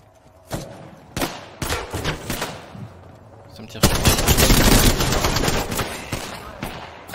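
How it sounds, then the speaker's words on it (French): Gunfire in Apex Legends during a duo match: scattered single shots, then a dense sustained burst of automatic fire, loud and continuous, with players talking over it. "on te tire dessus de loin"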